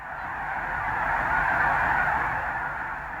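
A flock of lesser snow geese honks in a continuous, overlapping chorus, swelling slightly louder in the middle before easing, with a wash of distant calls behind.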